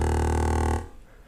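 A Korg Volca NuBass synthesizer plays a single loud, buzzy sustained bass note that cuts off abruptly with no release tail, leaving only faint residual noise afterward.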